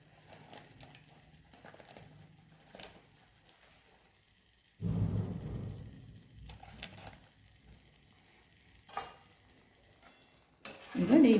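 A spoon stirs ground cumin, turmeric and spices in a pan for dhaba-style garlic spinach palak, producing soft scraping with occasional louder clanks and a rising sizzle near the end.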